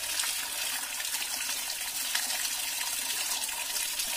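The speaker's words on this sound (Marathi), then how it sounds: "मंदिराच्या समोरच जे हे गोमुखातून पाणी पडत आहे" Water falls steadily from a cow-mouth spout in front of a temple, a continuous soft gush and splash at moderate distance, fairly quiet and even, with no talking.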